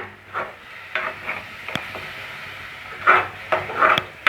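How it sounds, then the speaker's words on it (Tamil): Tomato paste with masala sautéing in a pan for chicken curry, heard as soft sizzling broken by irregular scraping stirs and spoon knocks, some close and sharp. "இப்போ நம்ம தக்காளி பேஸ்ட்டு சேர்த்துப்போம் இதை நல்லா ஒரு ரெண்டு நிமிஷத்துக்கு வதக்கி விட்டுக்குங்க"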